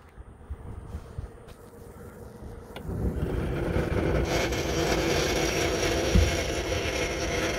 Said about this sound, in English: We've got a push button power engine hatch.